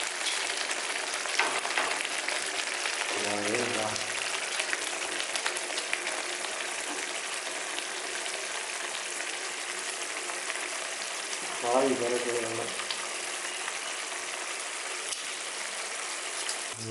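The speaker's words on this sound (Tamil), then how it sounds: "ரியல் சவுண்டு தக்காளி தொக்கு, ரியல் சவுண்டு." Constant hissing sizzle of thick tomato thokku bubbling in hot oil, steady and moderately loud, with a couple of brief voice sounds in between.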